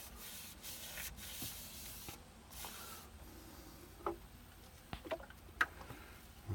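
Soft, steady rubbing as sanding sealant is worked by hand into a turned wooden fruit bowl, faint and close, with a few light clicks and taps toward the end.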